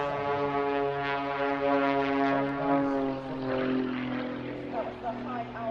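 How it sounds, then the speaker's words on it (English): Aerobatic propeller airplane flying high-alpha knife-edge at an airshow, a loud sustained engine drone with a steady harmonic tone that shifts slightly as it passes. "That was the high alpha knife edge flight, one of my personal favourites"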